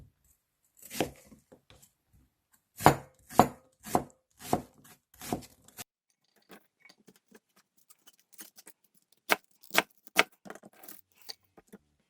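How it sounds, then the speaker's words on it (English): A knife chops vegetables on a cutting board in irregular clusters of sharp, close thumps, some strokes loud and others faint, with quiet pauses between the runs. "Let's cut all the vegetables."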